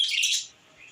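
Pet java sparrows and budgerigars give a quick burst of bright, high chirps and tweets up close, fading briefly before resuming softly, with no talking.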